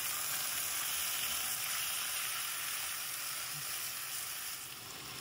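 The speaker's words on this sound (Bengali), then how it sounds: "তারপরে আমি টমেটো আর কাঁচা লঙ্কাটা দিয়ে দেবো, দিয়ে আমি এগুলোকে ভালো করে কষিয়ে নেবো।" Potato, onion, grated ginger, tomato and green chili sauté together in hot oil for a Kolkata street-style Mughlai paratha filling, producing a loud, unbroken hissing sizzle that eases slightly toward the end, with no talk.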